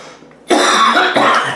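Two harsh coughs close together, loud and near, the second following right after the first with no talking.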